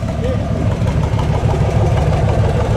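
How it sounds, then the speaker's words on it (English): A steady, low rumbling idle from a 1956 Lincoln Premiere Coupe's 368 cubic inch V8 runs throughout, close and fairly loud, with a deep continuous exhaust burble and faint voices underneath. "There's your exhaust."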